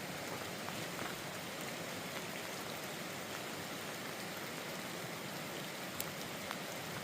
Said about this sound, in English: Got a heavy rain going now.